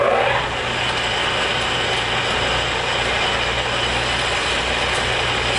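A metal lathe runs slowly at about 200 RPM while machining a tailstock quill, giving a steady, loud mechanical hum and whir with no talking.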